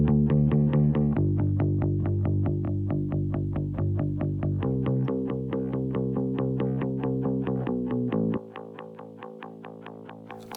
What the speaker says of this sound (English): We'll hear for a moment just our parallel bass bus.